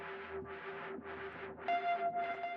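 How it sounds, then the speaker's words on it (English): Soft rhythmic tapping on guitar strings in a track breakdown, a steady pulse of muted hits with a sustained tone underneath, joined partway through by a brighter, louder layer with a held note. "It's just me tapping on the strings"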